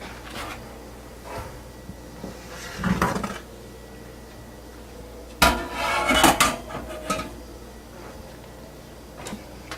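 Metal oven racks are pulled out of an oven, giving intermittent rattling clanks and scrapes, quiet and close, with two louder bursts of jangling metal.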